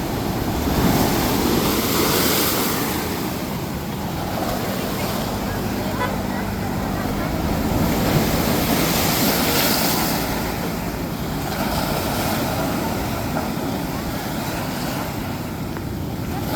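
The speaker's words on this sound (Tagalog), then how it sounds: "Yan pala alon, lakas." Strong sea waves roll in across the Davao Gulf as a continuous broadband wash and surge with wind buffeting the microphone, loud and close, with people talking over it now and then.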